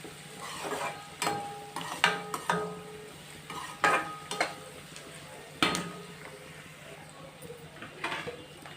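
Vegetables cook in a pan under a soft, steady sizzle while a utensil stirs them, knocking and scraping against the pan in irregular, close clanks.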